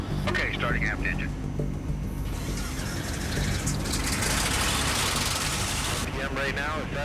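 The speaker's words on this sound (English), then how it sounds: "Okay, starting aft engine." An Aeroscraft airship's aft engine starts up and settles into a steady idle, a continuous broadband mechanical rumble that fills the clip, with voices talking over it.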